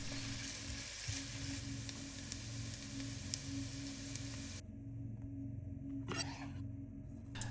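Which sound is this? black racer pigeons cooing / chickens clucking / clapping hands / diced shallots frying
diced shallots frying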